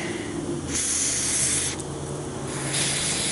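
Aerosol brake cleaner sprays in bursts into a brake caliper slide pin boot on a 2004-2008 Ford F-150, a steady bright hiss swelling and easing three times against a continuous low background.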